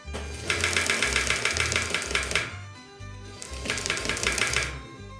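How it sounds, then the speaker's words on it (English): A sewing machine stitches the waistband onto the apron and pleats of a black tartan kilt, running in two loud rapid bursts of steady mechanical chatter with a short pause between them. "We cut the fabric for the waistband and sew it to both the apron and pleats, ensuring a tight fit."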